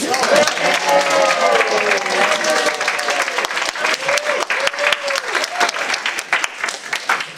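Sustained audience applause from a standing ovation at a comedy lecture: dense, loud clapping fills the whole clip with steady intensity, with faint crowd voices underneath.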